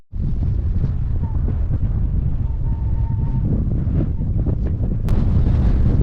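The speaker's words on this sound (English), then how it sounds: "Best thing about it being a windy day is the weather changes very quickly." Gusty wind buffets the microphone on a hillside along the South Downs Way during a solo hike. It is a steady, loud rumbling roar throughout the clip, with a faint thin tone drifting through in the middle.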